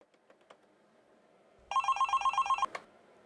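A telephone rings in one steady burst of rapid electronic trills, loud and close, ending in a sharp click as it is picked up.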